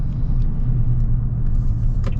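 A Toyota Tundra TRD Pro pickup truck drives along with a loud, close, steady low engine and road rumble, unbroken and without any voices.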